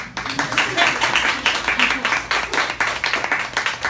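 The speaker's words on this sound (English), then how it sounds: "Y'all can clap for that." An audience at a live talk claps steadily, a dense rhythmic patter of many hands filling the room at close range, with voices mixed in.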